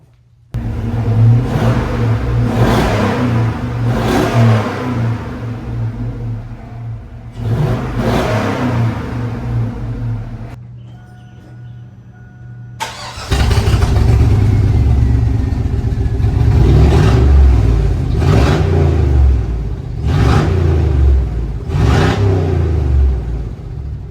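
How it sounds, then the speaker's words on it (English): A GMC Denali truck with a stock exhaust and muffler revs repeatedly, loud and close, with deep rumbling pulls that drop back to idle, a brief quiet gap, then longer sustained revving. "I'll rev it up right here, let you know how it sounds bone stock before we cut the muffler off."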